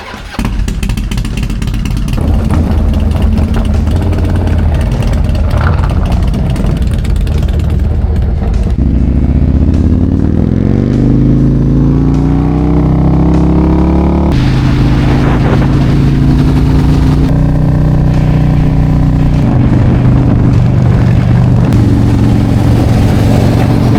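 A loud Harley-Davidson Road Glide CVO RR engine with a full race tune idles roughly, then revs up and down repeatedly, its pitch rising and falling with each throttle blip, close by.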